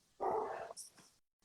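Dog giving a single loud bark outdoors in the rain at a house under construction, followed by faint yips, close and brief with a quiet pause after.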